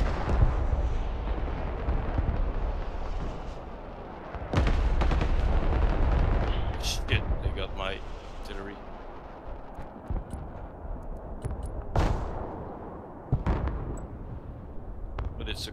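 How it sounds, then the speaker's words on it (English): HIMARS rocket artillery firing in the Broken Arrow battle game on the Parnu map, heavy booming blasts with a loud onset near midway and further sharp reports later, over a constant rumbling battlefield din with a voice talking. "HIMARS in the back over here. I think it's about to fire."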